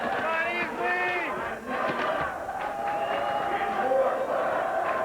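A crowd cheers and shouts continuously at a high school boys' state track and field final, a loud sustained roar with voices rising over it, while an announcer talks throughout.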